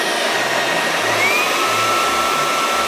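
An Ultenic FS1 cordless vacuum cleaner runs close by with a loud, steady motor whir and airy rush, its pitch wavering slightly throughout.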